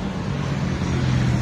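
Car traffic rolls along the Mumbai–Bangalore highway near Talegaon as a steady, continuous roar of passing vehicles at a moderate distance, with no single car standing out.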